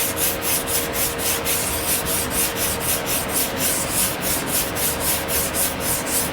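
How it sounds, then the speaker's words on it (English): Steady back-and-forth rasping of a sanding block working primer on a Chevrolet C10 truck body, a regular rhythmic scrub repeating about twice a second, close and even with no talk. "I sand most of the stuff off"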